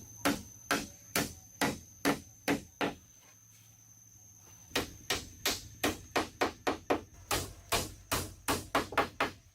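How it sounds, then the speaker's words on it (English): A timber plank is hammered down into a floor channel in a hand-dug forest bunker, giving a rapid series of sharp wooden knocks. A short run of blows, a brief pause, then a faster, denser run of strikes, close and clear. "Driving the timber down firmly seats it into the floor channel."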